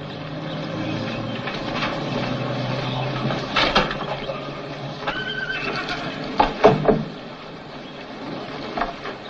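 A horse in a stable at a racetrack gives a few whinnies and snorts, mid-distance and moderately loud, with faint shuffling and background noise.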